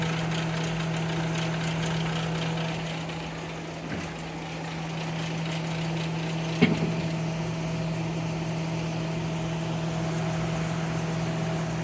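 A Montgomery Ward 22-pint dehumidifier runs with a steady low mechanical hum and drone, constant throughout with a faint background fan noise and a couple of small knocks.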